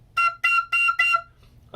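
A tin whistle pushed into its highest register, beyond the third octave, sounds four short piercing notes in a steady rhythm, close and loud, with a brief fragment of another sound at the end.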